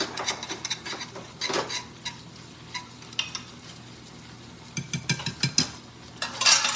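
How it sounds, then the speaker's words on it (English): A spoon stirs cornstarch slurry into a chicken stir fry in a pan, giving scraping, sizzling bursts in irregular clusters, close and moderately loud, with no talking. "I am going to put just one more spoon of slurry in there and go ahead and be ready to stir as I do it."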